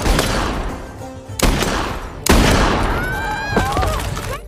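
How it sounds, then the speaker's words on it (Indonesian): Gunfire in a scene from the Indian film Begum Jaan, loud reverberant shots bursting out over a dense dramatic soundtrack, with a couple of sharp hits standing out and music continuing between them. "ada satu momen yang Gulabo ini lagi berhayal menembak mati Begum Jan."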